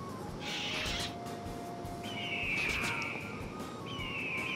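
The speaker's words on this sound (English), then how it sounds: "I might get defeated by birds" Birds attacking in the video game Monster Menu let out shrill, drawn-out cries, several high calls rising over a faint constant background hum.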